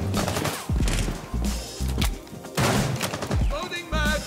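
Gunfire in the tactical shooter Rainbow Six Siege: repeated loud bursts of shots and thuds in quick clusters, with short gaps between volleys.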